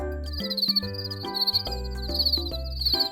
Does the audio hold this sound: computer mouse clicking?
no